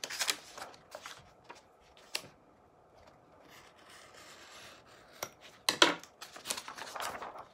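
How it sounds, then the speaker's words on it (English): An X-Acto knife slices through stacked vintage sheet music and encyclopedia pages, giving scattered short scratchy cuts and papery rustles, quiet and close, growing busier toward the end. "just start cutting with an X-Acto knife until you have a stack of"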